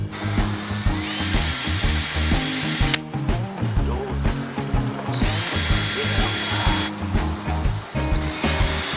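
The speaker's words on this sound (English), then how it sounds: "I could never drill those holes right the first time." A power drill bores holes for the handlebar of a gas scooter, whining loudly in long continuous runs with a brief pause in the middle, close up and without talk.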